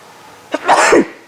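A single loud sneeze up close, a short sharp intake followed by a forceful burst, then quiet.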